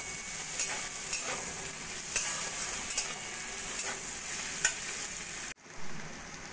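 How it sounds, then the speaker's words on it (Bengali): Bitter gourd frying in a pan with salt and turmeric, stirred steadily: a continuous close sizzle with soft scraping strokes, then a sudden brief drop near the end before the sizzle returns. "নুন হলুদ দিয়ে উচ্ছে আমি একটু ভালো করে ভাজা ভাজা করে নেব।"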